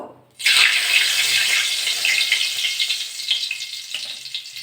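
After a brief quiet moment, a loud burst of sizzling erupts as neem leaves hit hot mustard oil, then settles into steady, crackling frying up close.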